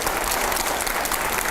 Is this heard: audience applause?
yes